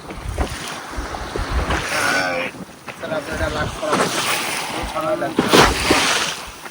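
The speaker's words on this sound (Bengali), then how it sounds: "হাওয়া আর ঢেউ" Strong wind buffets the microphone while waves slap and surge against a boat on the Matla river, loud and gusty in uneven bursts, with voices talking over it.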